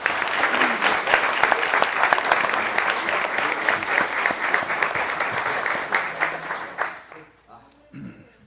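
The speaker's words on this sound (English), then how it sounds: "let's give them another round of applause" An audience at a La Vergne mayor and aldermen city workshop meeting breaks into sustained, dense applause that holds steady for several seconds, then thins out and fades, with a few voices as it ends.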